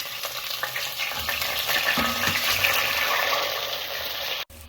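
Chopped onion and coriander stems sizzle in hot oil, a broad, steady hiss close by with light stirring, ending in an abrupt cutoff. No one speaks.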